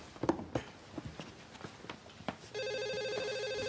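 A telephone rings in a tense room after scattered footsteps and shuffling, the electronic ringing loud and steady over the last second, the call automatically traced by the phone company.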